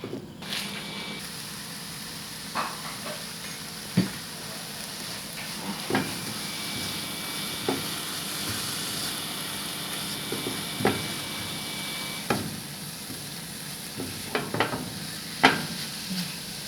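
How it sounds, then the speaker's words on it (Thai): Tamarind chili paste with pounded dried shrimp being stir-fried in a pan, a quiet low sizzle broken by intermittent scraping clicks of a spatula stirring at an unhurried pace. "ค่อยๆผัดให้เข้ากันนะคะ"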